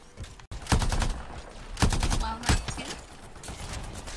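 Gunfire in the video game Anthem: several loud, sharp bursts of shots and rapid fire in clusters, with crackling impacts between them and a faint bit of game noise underneath.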